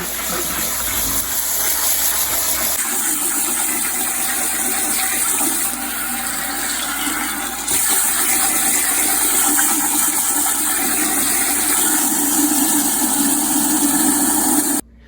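Cold water from a sink tap gushes steadily into a 5-gallon bucket holding elderberries, a loud continuous rushing roar that holds for the whole stretch with slight shifts in tone, with no talking.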